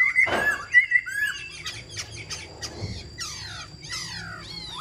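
Caged white-cheeked laughingthrush singing: bright, loud squawking calls and rapid chirping phrases close up, repeated in bursts with no talking.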